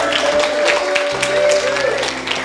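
A church congregation applauding and cheering for Jesus at a worship gathering, a loud sustained mix of clapping and raised voices with some shouting above it.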